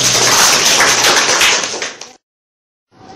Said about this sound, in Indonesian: Kita kasih aplaus buat Mbak Nurul.